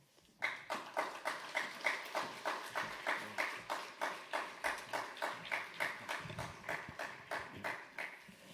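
A chapel-service audience at a Korean university claps in steady unison, about three sharp claps per second and evenly paced, continuing for roughly eight seconds with no voices over it.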